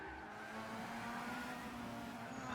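Race car engines in a Gran Turismo endurance race, a steady droning whine of several cars at speed, faint and continuous with no talking over it.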